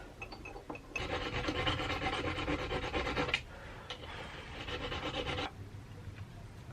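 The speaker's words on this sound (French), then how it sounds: "Mettre un petit coup de lime." Hand file rasping across brass on a guitar part, two long steady bouts of back-and-forth strokes, close and clear, preceded by a few light taps.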